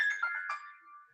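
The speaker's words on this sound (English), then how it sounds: "that was my phone" A mobile phone ringtone chimes briefly in an indoor talk setting, a short melodic electronic tone sounding alone at moderate level and fading out.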